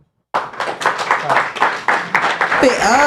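Audience clapping at a live show, a quick, dense burst of applause from a small crowd that starts abruptly and continues steadily, with voices calling out over it toward the end.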